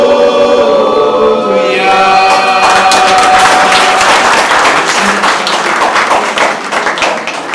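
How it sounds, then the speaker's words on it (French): Audience applause at the inauguration of a school computer lab, with steady dense clapping from a sizeable crowd filling the room, loud and continuous after a brief musical opening, tapering slightly at the end. "Mes amis, applaudissez encore, s'il vous plaît."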